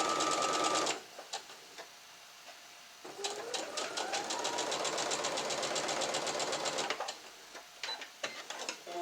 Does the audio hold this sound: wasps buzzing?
no